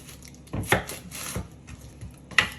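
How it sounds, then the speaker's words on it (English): A knife chops an onion into squares on a cutting board, a few crisp separate thuds spaced unevenly, close and fairly quiet, with no talking. "for the onion, we're just going to cut it into some squares"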